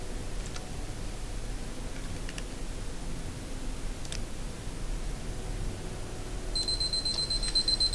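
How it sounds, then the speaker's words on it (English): A timer going off near the end, a thin high repeated beeping that starts after several seconds of soft hiss and faint ticks and keeps pulsing steadily. "That is my timer."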